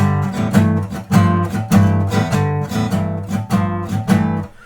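A blues shuffle riff repeats in a steady swung rhythm, with chunky low notes and strummed accents, played alone and clearly up close.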